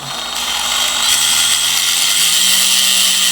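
A drone motor, the third motor on a torture-tested build, spins at quarter throttle with a steady high-pitched whine that rises slightly in level partway through, with no talk over it.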